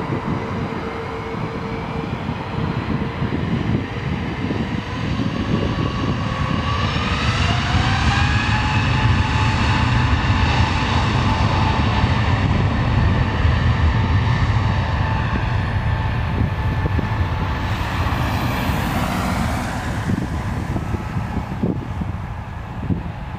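A TAP Air Portugal airliner takes off at Lisbon Airport, its engines building into a loud, sustained roar with a rising whine that swells and holds steady throughout, with no voices present.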